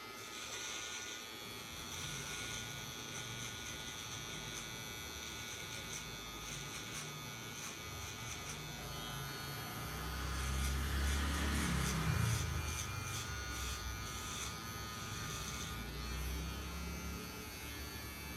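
Electric hair clipper cutting a person's hair, a steady faint buzzing hum throughout that grows slightly louder and denser for a few seconds midway, with no talking.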